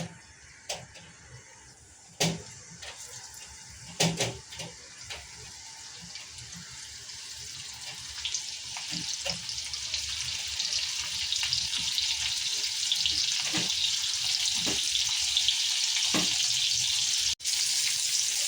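Marinated prawns are slipped one by one into hot oil for crispy frying. Sharp splashes and crackles mark each drop, then a steady sizzle swells and grows louder, close by with no talk.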